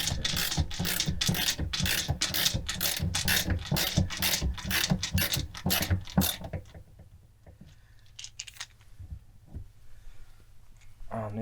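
A magnetic screwdriver drives screws into a caravan gas regulator, giving a rapid run of close, ratcheting clicks and scrapes that stops, followed by quieter handling noises.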